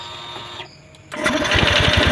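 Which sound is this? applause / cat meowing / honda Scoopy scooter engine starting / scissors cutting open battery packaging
honda Scoopy scooter engine starting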